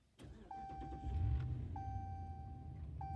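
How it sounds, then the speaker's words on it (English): Ram 1500 pickup truck starting up close by, a brief crank rising into a steady low idle, with repeating electronic chimes from the cabin above the engine. "So I'm gonna go ahead and turn on the car here, and I'll show you it kind of starting up."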